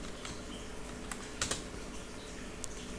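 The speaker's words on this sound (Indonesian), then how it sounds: "kita hanya mengetikkan seumpama notepad" Someone types on a computer keyboard while entering commands in a command prompt. The clicks are faint and scattered, with a few sharper key presses over steady background noise.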